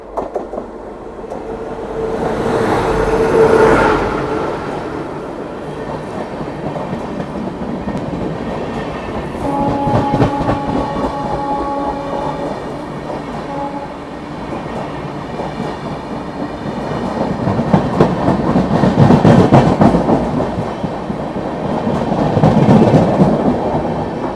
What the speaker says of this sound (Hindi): सामने से आ रही है अपनी Anand Vihar Ballia Bhrigu superfast express WAP7 Kanpur shade के साथ